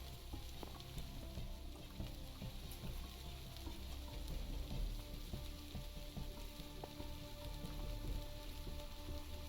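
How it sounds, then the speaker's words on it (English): Steady rain pattering on a roof in the survival game TerraFirmaCraft, a dense continuous patter and sizzle with scattered sharper drops, moderately loud and unbroken throughout. "Although it's raining on the roof. Somewhere. I hear rain."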